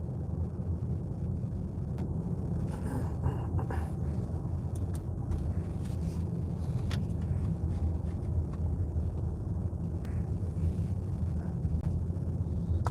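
A Kia EV3 Long Range cruises on the Autobahn, a steady low road and wind rumble heard from inside the cabin, with faint scattered clicks and no talking.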